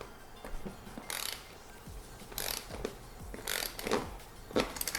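A ratchet wrench tightens a lug on a roof-rack awning mount with bursts of rapid clicking ratcheting, repeated in several short strokes separated by quieter pauses.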